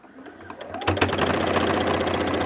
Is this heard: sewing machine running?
yes